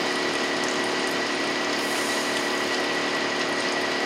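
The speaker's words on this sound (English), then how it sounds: "Okay, let's turn the pump on, and we're going to start this 1, 2, 3, go." A G&G injection pump running steadily on its own, giving a constant broadband whir with a faint tonal hum and no breaks or speech.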